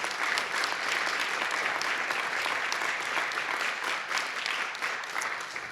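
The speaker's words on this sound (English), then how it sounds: "You should clap for that." Sustained applause from an audience at a mayoral portrait unveiling ceremony, steady and dense throughout at moderate loudness, with no voices standing out.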